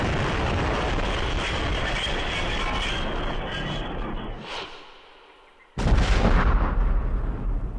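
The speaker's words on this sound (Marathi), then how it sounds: "या स्फोटाचा आवाज इतका जबरदस्त होता की कित्येक दूरपर्यंत याची दाहकता जाणवली" A missile explosion strikes a wine factory in Ukraine during wartime: a sustained roaring, rumbling blast that slowly fades, then a sudden second loud boom and heavy rumble, with no talk.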